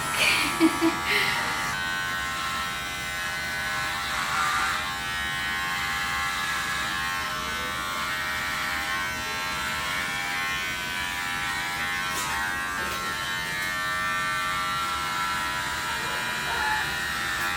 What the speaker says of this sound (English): Is this your first time shaving an adult's head?